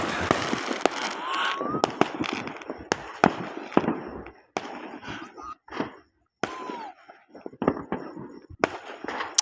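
New Year fireworks go off in an open rice field, with a string of sharp cracks and bangs, some near and loud, others further away, set against outdoor background noise and short bursts of voices.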